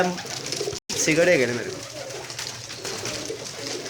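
Pigeons kept for sale coo in low, rolling notes near at hand, overlapped by someone speaking at the start, then continuing softly under background noise.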